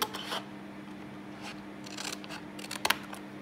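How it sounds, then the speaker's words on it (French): Scissors cutting a small paper flap of a handmade faceted box, with a few quiet snips and rustles scattered over a soft background hum, the sharpest cut near the end. "Sur ces 4 petits volets-ci, le premier volet, vous allez le couper"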